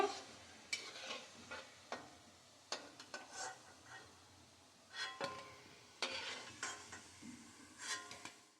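Chhana and spinach koftas frying in oil, a soft continuous sizzle broken by repeated sharp scrapes and clinks of a utensil against the pan, spaced about a second apart.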